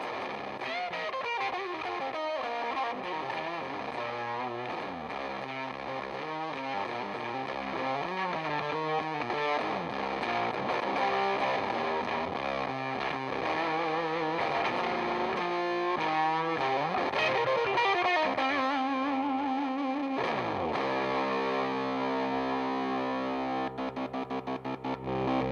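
A rock-and-roll backing track plays with heavy distortion on it, a thick, continuous fuzzy band texture that shifts through changes and thins near the end.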